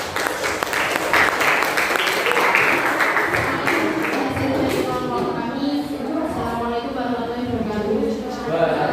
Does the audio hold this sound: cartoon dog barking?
no